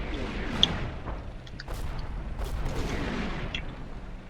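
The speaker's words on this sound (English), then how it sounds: "I called in this artillery" Artillery fire in the Combat Mission Shock Force 2 war game, with repeated muffled booms and thuds at a distance amid a rumbling battle background.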